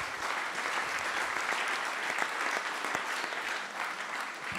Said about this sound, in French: Bon, bah on peut applaudir Guigui, Kiki et Kikou, qui sont éliminés.